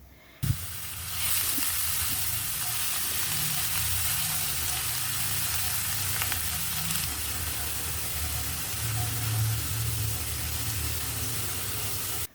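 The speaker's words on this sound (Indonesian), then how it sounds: "Tumis bawang putih cincang sampai harum agak kecoklatan." Chopped garlic fries in cooking oil in a frying pan, giving a close, steady sizzle with a soft hiss that holds evenly for several seconds, with no voices.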